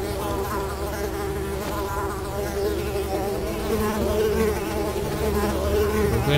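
Mosquitoes in the video game Unravel give a steady, droning insect buzz that persists throughout at moderate volume.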